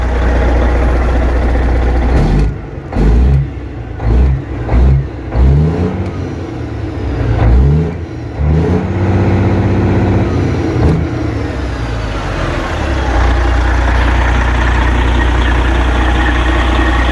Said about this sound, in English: Let's give her a few revs here.